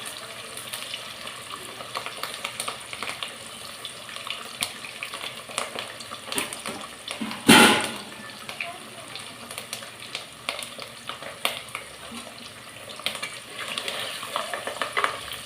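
Fish fries in a pan for fish kulambu, giving a continuous crackling sizzle with scattered pops and one sharp clatter midway, close and moderately loud throughout.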